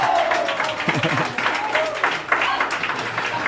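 Crowd cheering and applauding as a men's club curling championship ends with an 8-7 extra-end win, a steady broad roar of clapping and cheers filling the whole stretch with a brief voice over the top.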